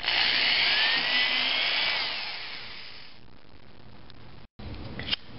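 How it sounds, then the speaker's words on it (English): A power drill whines loudly and steadily for about three seconds while drilling a hole in a kayak, then winds down, leaving quiet background and a few small clicks. "Drill the hole."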